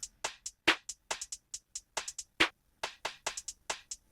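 Bare, unprocessed drum pattern from the Memphis Essentials kit, with crisp snare hits, ticking hi-hats and rim clicks in a steady, sparse loop, dry and close with no other sounds.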